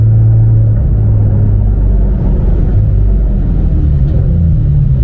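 Porsche 991 GT3 on the Nürburgring, its engine a loud, steady close-up rumble with shifting drone, heard continuously from inside the car without talk.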